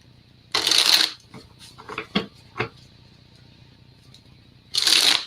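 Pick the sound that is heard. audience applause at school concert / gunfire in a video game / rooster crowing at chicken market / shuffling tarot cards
shuffling tarot cards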